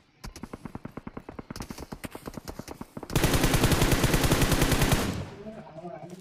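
Rapid automatic gunfire in the battle royale game BGMI: a steady stream of sharp shots gives way to a denser, louder burst of continuous fire, then trails off, with faint voices at the edges.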